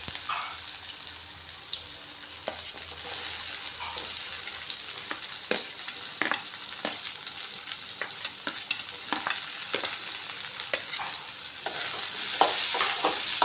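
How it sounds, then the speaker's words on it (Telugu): Capsicum fries in a pan with onions and paste for a capsicum potato curry, a continuous bright sizzle punctuated by frequent scraping stirs, growing louder near the end. "ఇప్పుడు క్యాప్సికమ్ వేసుకుందాం."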